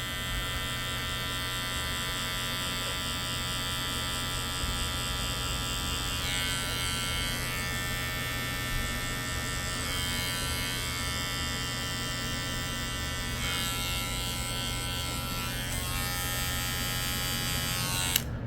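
Electric hair clippers buzz steadily and up close while shaving a taper fade, a continuous electric hum with slight shifts in tone as the blade moves through the hair, no talking.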